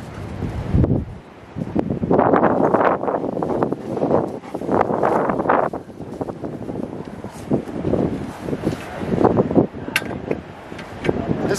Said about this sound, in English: This is gonna be tough because the wind is blowing this way